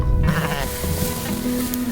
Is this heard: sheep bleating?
yes